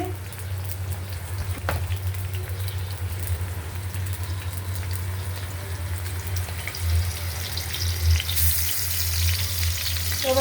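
Continuous close sizzle of whole fish frying in oil, with some watery splashing and a brief burst of hiss near the end.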